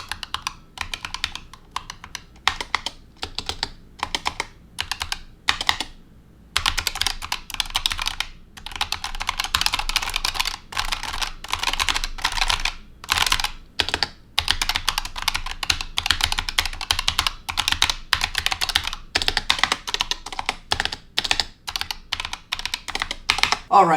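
Fast continuous typing on a Razer Huntsman TE keyboard with linear optical switches, double-shot PBT keycaps and a metal base, a loud, dense clatter of keystrokes with brief pauses, close up and without talk.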